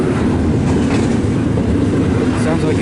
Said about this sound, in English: This auto rack train.